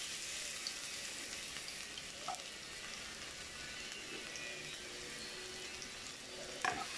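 Garlic sautés in red-tinged oil for spicy corned beef, a faint, steady sizzle with an occasional clink of a utensil near the end and no talking.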